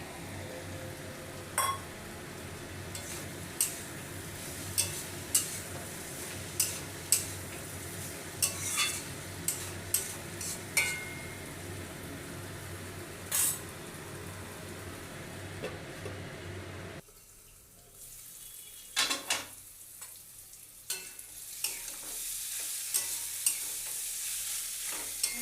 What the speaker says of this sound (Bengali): এবার দিয়ে দিচ্ছি ভেজে রাখা চিংড়ি মাছটা।